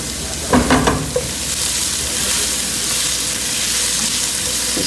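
Pork chops sauté in butter and olive oil, a loud continuous close sizzle after a few clattering knocks of a utensil at the start.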